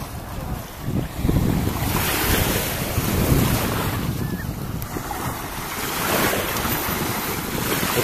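Sea surf washes onto a resort beach at Dzhemete near Anapa, a continuous rumbling wash of breaking waves mixed with gusty wind buffeting the microphone.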